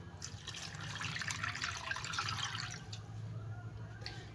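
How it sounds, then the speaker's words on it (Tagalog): Tap water runs steadily into a sink while milkfish is rinsed clean by hand, a continuous close splashing wash with a faint low hum beneath. "Tapos hugasan na lang natin mga idol para malinis."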